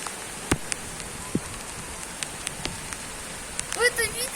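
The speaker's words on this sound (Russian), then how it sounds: "Дождь идет." Light rain falls steadily, with scattered close drops ticking and tapping against a surface over a soft background hiss, and a faint voice-like sound rises briefly near the end.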